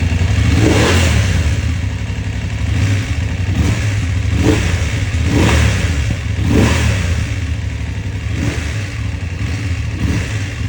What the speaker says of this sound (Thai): เดี๋ยวลองสตาร์ทดูนะครับ เร่งนะครับ